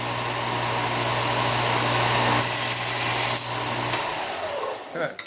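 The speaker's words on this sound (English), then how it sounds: "so I'm going to sand that off." Sandpaper rubs steadily over a drilled aluminum plate being prepared for a homemade graphene supercapacitor, a continuous close scratching hiss over a low hum that fades near the end.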